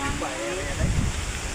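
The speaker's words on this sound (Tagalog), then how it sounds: "Ginoo ko nga hangin man" Strong wind roars across an open rural spot and buffets the microphone with a broad, rushing noise and low gusts. A voice speaks briefly underneath.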